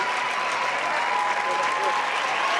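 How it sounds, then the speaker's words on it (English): Softball fans at an NCAA regional game give a sustained round of applause, dense steady clapping from a crowd that holds even for the whole stretch. "Gillespie deserves and receives a big round of applause from the fans"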